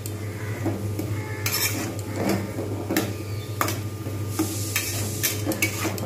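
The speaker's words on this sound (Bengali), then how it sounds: "আর একটু ভালো করে কষিয়ে নেব।" Masala being sautéed in a pan for an egg omelette curry, with repeated scraping and stirring clinks of a spatula against metal over a steady low background hum, close and moderately loud.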